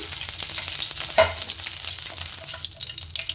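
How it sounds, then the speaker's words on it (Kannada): A green chili frying in hot oil on a tawa gives off a steady, bright sizzling hiss, close and continuous, with a brief louder crackle partway through and no voices. "ಫುಲ್ ಎಣ್ಣೆಯಲ್ಲಿ ಇದು ಫ್ರೈ ಆಗಬೇಕು"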